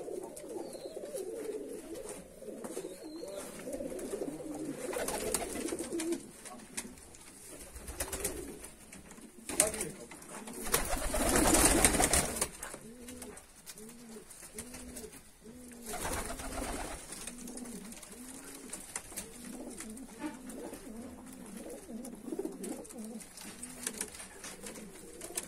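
Domestic fighting pigeons in Georgia coo in repeated low, rolling bursts close by, layered over a continuous hissy background with a few louder rustling noises in the middle.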